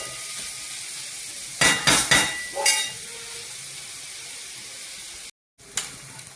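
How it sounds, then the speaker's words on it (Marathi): Onion fries slowly over a low gas flame, a soft, steady sizzle broken by a few sharp stirring scrapes against the pan early on, a brief gap, then another clink. "आता कांदा पूर्ण करपेपर्यंत हा बारीक गॅसवर 5 मिनिटं परतू द्यायचा।"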